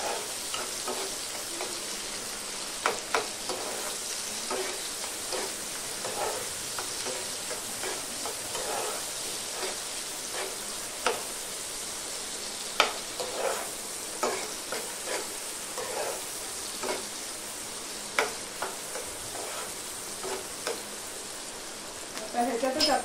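Chopped onion sizzles steadily in hot oil while being cooked into a dried shrimp and raw mango curry, a continuous bright frying hiss with small crackles and occasional stirring scrapes throughout.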